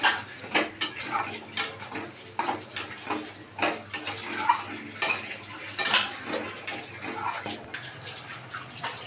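Spices are stirred into fried onion and tomato in a cooking pan for a spicy chicken dish. A spoon scrapes and clanks against the pan close up in an uneven, repeated rhythm over a low sizzle, with no talking.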